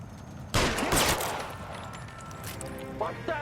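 Two loud gunshot bursts crack close up in a video game, each decaying into a rumbling tail, with faint game sounds after them.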